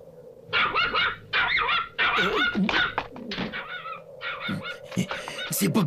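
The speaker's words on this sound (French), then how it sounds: "il y a un énorme chien" A large cartoon dog barks loudly and repeatedly in rapid bursts, with yips and whimpering mixed in, close and dominant throughout.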